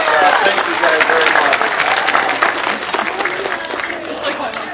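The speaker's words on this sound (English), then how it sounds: "Let's give a little round of applause." A crowd at a corn maze animal show breaks into loud, dense applause that gradually thins and fades, with some voices mixed in.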